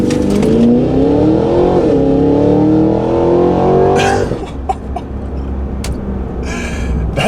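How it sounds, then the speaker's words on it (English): A 2023 Cadillac Escalade-V SUV launches hard from a red light, its engine roaring loud and close as it rises through the revs, then easing to a lower rumble with brief knocks and clicks from inside the cabin. "I'm gonna give it a little jump off the line here, and we can see just how beastly this Escalade is"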